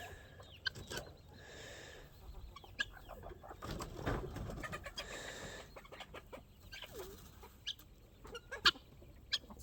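Backyard flock of chickens and guinea fowl being herded to roost at day's end, with scattered clucks, coos and sharp squawks over a faint background, calls irregular and moderately close.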